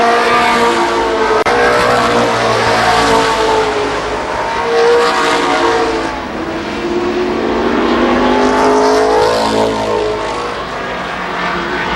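Race cars roar around Columbus Motor Speedway, loud engines surging and fading as they pass in waves, with rising and falling whine over twelve seconds and no voices.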